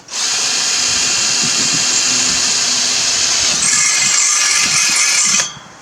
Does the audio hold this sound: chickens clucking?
no